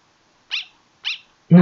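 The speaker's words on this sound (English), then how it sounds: "Oh my god, it's a dog!" Undertale dog barking: two short, high, chirpy yaps about half a second apart, followed by the sudden start of a loud voice.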